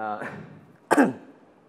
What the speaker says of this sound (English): I'm having a very bad cough